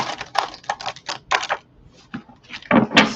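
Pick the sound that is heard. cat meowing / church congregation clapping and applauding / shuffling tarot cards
shuffling tarot cards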